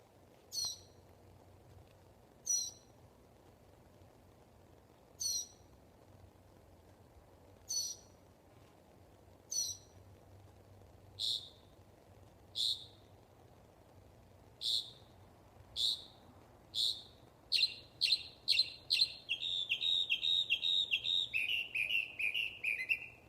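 A noisy nocturnal bird repeats a sharp, high call, at first spaced a few seconds apart, then coming faster and faster until it runs into a near-continuous string of calls over a low steady background hum.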